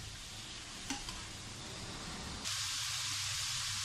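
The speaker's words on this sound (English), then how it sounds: "keep stirring it until the oil soaks in" Vegetables stirred in hot oil in a pan, with a steady sizzle and scraping stir sounds close up; the frying hiss grows louder and broader partway through.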